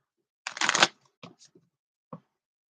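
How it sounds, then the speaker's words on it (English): Playing cards being shuffled: one loud riffle burst followed by a few short, soft taps and flicks. "Two more shuffles."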